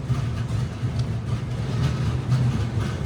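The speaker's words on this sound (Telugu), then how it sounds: "అదిగోండి Satavahana express, super fast express అది" The Satavahana Express superfast train rumbles steadily at Kazipet junction, a low, heavy, continuous roar of wheels and wagons, fairly loud and close, with no voices.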